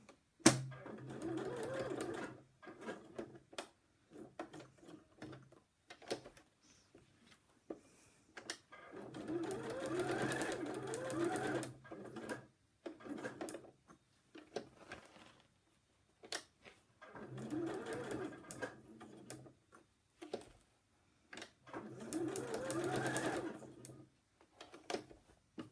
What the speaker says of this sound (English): we need to do some stitching